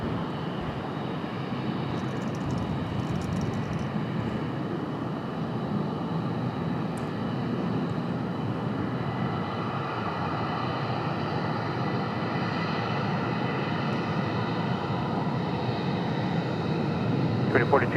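A United Airlines jet departing for Munich rumbles with a low, steady engine roar held at a distance for a long stretch, with faint other sounds over it near the end.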